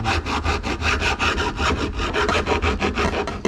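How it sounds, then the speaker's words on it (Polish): Rhythmic rasping strokes of a hand file on the side edges of a wooden camper part, about a dozen even back-and-forth passes, close and clear. "Teraz tylko boczki podpiłować."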